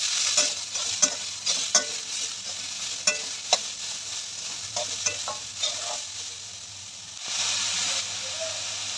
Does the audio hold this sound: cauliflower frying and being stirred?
yes